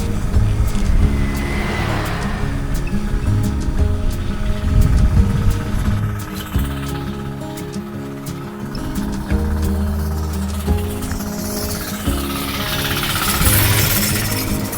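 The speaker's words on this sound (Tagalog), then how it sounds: "may dumalang na traktora. Kaya medyo maingay." A tractor passes nearby on a rural road, its engine chugging in a loud, steady rhythmic drone with pulsing low beats that rise and ease over several seconds, with wind rushing in the background.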